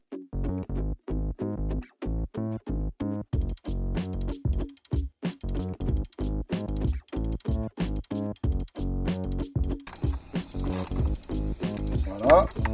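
A ratchet wrench clicks in a fast, steady series of sharp ticks while tightening freebord parts, loud and close, with a brief burst of brighter rattling near the end.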